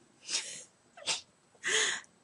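A person sneezes nearby, a quick breathy buildup followed by a sharp, loud burst, then quiet.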